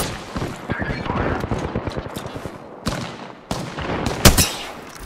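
Rapid gunfire in the video game Apex Legends, with bursts of shots crackling through a dense, busy mix of noise and a few sharper, louder reports near the end.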